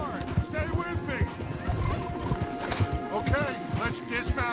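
Horses gallop with rapid hoof clip-clops and occasional whinnies during a hard ride in Red Dead Redemption 2, heard under voices and background game sound throughout.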